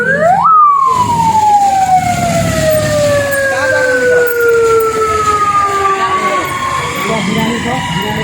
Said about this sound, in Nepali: लिएर यो एम्बुलेन्स गइरहेको छ।